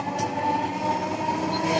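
A Dhaka metro rail train bound for Uttara North runs steadily, a continuous rumbling drone with faint rail hum heard from inside the car, no talking.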